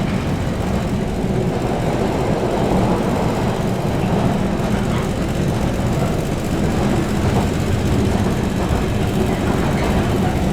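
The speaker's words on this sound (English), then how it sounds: "Bloody long trains, these freight trains." A long freight train rolls past close by, with a loud, steady rumble and clatter that holds for the full stretch without a break.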